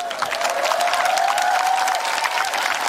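A concert audience applauds in a dense, steady wash of clapping with faint cheering, and a thin whistle-like tone runs through it.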